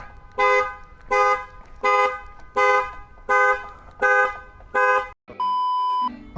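Panic alarm of a 2013 Ford Mustang GT sounding close by: seven loud, evenly spaced horn blasts, followed by a short steady electronic tone.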